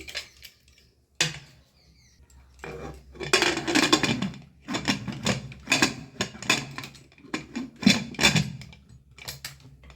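A pressure cooker lid is fitted onto a pot of moong dal cooked with bottle gourd, heard as a run of close metallic clanks, scrapes and knocks in irregular bursts with brief pauses.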